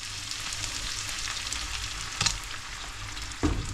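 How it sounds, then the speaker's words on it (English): Octopus sizzles and fries in a pan as coconut milk is added, a steady crackling hiss with a couple of brief clanks of a utensil stirring, close and fairly quiet with no talking. "We've got some coconut milk that I'm gonna add in a minute."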